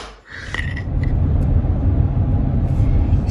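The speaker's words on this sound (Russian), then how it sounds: "Мы едем сейчас домой." Steady low road rumble from inside a moving car on the drive home, continuous engine and tyre drone filling the cabin with no voices.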